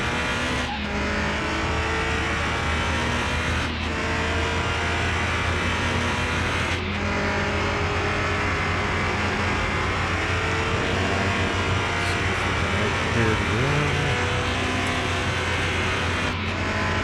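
A Dodge Viper's engine runs loud and close for the whole stretch, a steady continuous roar with brief sharp bursts that may be tyre squeal.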